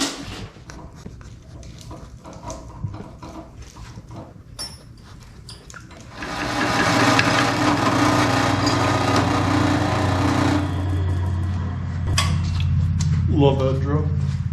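Power drill boring a bolt hole during an LS swap intake tube and MAF sensor install, starting with a steady sustained whine after quieter workshop clatter, running loud for several seconds before stopping, with brief talk near the end.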